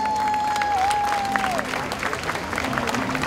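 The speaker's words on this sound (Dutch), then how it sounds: "je krijgt een groot applaus voor iedereen die gekomen is" Applause from a gala audience greeting an arriving guest, broad clapping that stays fairly even, with a faint tonal whine and some crowd murmur mixed in beneath it.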